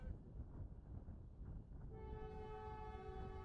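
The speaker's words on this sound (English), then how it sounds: "And it's not a stoppage because of the train going by, Sari." Train passing near a college soccer field during an NCAA Division 1 men's match, rumbling steadily at a distance before a loud sustained horn blares in the final second and a half.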